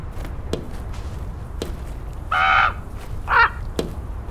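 A crow caws twice in the video game Draugen, harsh and fairly close, amid soft ambient game sounds and a few sharp ticks or footsteps.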